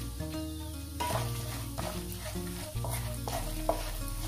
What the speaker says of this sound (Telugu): ఈ విధంగా ఫ్రై చేసుకోవాలి